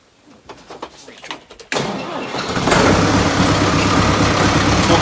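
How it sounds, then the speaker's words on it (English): An old tractor engine cranks and catches after its battery has been on a charger, jumping from quiet clicks to a loud, steady near-field idle that rumbles on to the end with no talk. "that battery charger's been on the tractor for 15-20 minutes here by now, so let's go and see if that old girl will start up."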